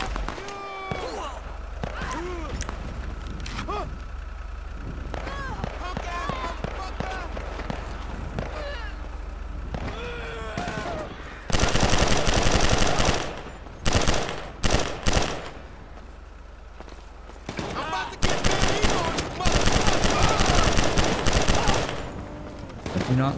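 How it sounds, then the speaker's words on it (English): Gang shootout gunfire in GTA 5: after a stretch of talking, loud close bursts of automatic fire break out in repeated volleys with short pauses between them. "That was a gang shootout."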